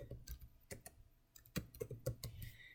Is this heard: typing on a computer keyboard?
yes